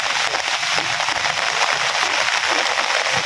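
Rain pours down during a sudden storm, a dense steady hiss of drops striking surfaces close by, with no talk.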